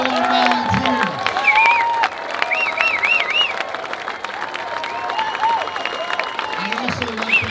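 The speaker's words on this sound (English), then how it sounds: "a special round of applause for Mr. Bill Brown, our race director, and all our volunteers" Applause and cheering from an outdoor crowd at a seal swim event, honoring the race director and volunteers. It runs steadily throughout, with voices calling out over the clapping.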